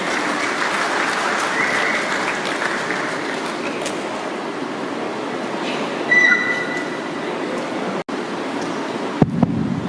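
Concert audience applause greeting the managing director of Krista Group as he comes up to speak at the Krista Bukit Antarabangsa concert, a steady broadband clapping that fills the hall at an even level, with a few brief sharper sounds near the end.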